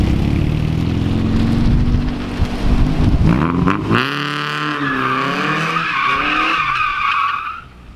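A Nissan 240 drift car revs hard, then its tires break loose into a long, loud screeching skid after a clutch kick, the squeal rising and wavering before fading out near the end.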